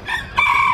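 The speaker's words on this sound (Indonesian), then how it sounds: "Dan di bawahnya itu kayak ada ayam Arab ya." Arab chicken crowing at a rabbit and poultry market, a short close, loud crow in two rising bursts with no other sound.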